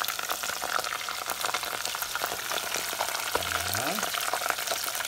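Squid pieces dropped into hot oil fry with a steady, loud crackling sizzle that runs throughout, and a short rising tonal whine appears near the end.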